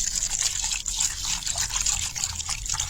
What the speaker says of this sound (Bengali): ঠান্ডা জল দিয়ে এটা দইলেন